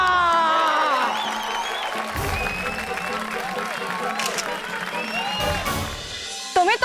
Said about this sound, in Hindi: तो बजाइए अमृतलाल डगली जी के लिए तालियां।